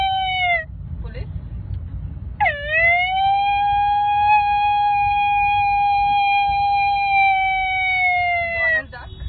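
A voice mimics a police siren close up: a brief rising whoop, then a long, steady high wail that holds for several seconds and drops off at the end.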